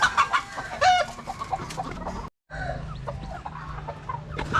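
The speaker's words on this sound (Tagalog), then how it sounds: "so ito na yung mga sisiw natin, yung mga anak ng golden girl natin" Young chicks and adult chickens on a small farm, clucking and peeping in busy overlapping bursts close by, with a brief silent gap midway and no talk.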